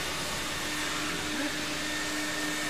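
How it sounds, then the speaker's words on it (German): A vacuum cleaner hose works through a car's interior at a car wash, giving a loud, steady, unbroken whine and rushing hiss close by, with no speech. "Da macht das Saugen gleich doppelt so viel Spaß."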